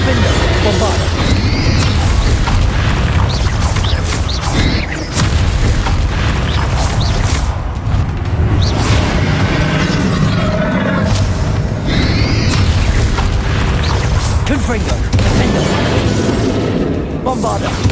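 Dense, continuous booms and blasts fill a Hogwarts Legacy spell duel as Bombarda and Confringo explosions go off, loud and sustained with recurring bursts throughout, heavily layered with game effects and voices speaking.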